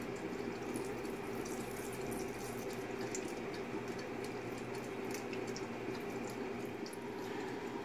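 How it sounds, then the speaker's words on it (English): A steady stream of water pours and splatters continuously as it is wrung out of cauliflower, fairly close and moderately loud, with no voices. "All you're going to do is you're going to twist. Look at all that water coming out of there."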